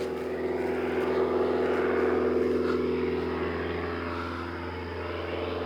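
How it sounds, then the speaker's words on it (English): A bush plane's propeller engine drones steadily at moderate distance as it takes off, its hum holding a constant pitch before easing slightly toward the end. "Yeah, it's a bush plane."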